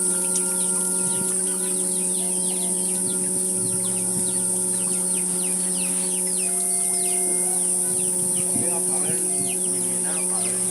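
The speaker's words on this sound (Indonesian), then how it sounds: "Ada ayam juga Baraya nih. Lagi nyilem-lem ayamnya. Lagi mengeram nog." Chickens clucking in a Sundanese village in West Java, a brooding hen among them, with soft, scattered clucks under a constant high insect drone and a steady hum.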